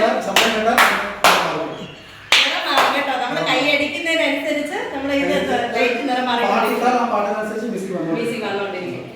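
Schoolroom applause from a group clapping hands, a brief burst of loud, sharp claps near the start, then a chatty crowd of voices talking over one another for the rest.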